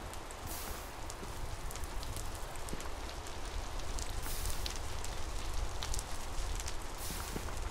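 Continuous rain hissing steadily in Minecraft: Switch Edition, with scattered drops pattering on a surface, close and even throughout with no voices.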